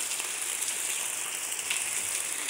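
Steady heavy downpour surrounding a flooded area, an unbroken dense patter of drops on water and leaves, close and fairly loud throughout without talking.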